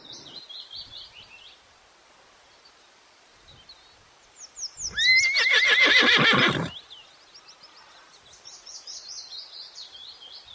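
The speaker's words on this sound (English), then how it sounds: "H for horse." A loud horse whinny rises and shakes for about two seconds, with birds chirping faintly before and after.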